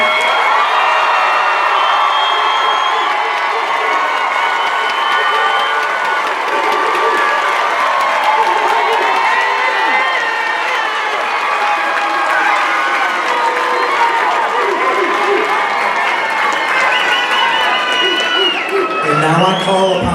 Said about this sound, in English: Please join me in one more round of applause for all of our wonderful graduates.